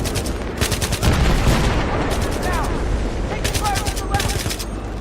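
Sustained rapid automatic gunfire and battle noise in the Battlefield 3 campaign, a continuous dense clatter with bursts and booms, while a voice talks over it.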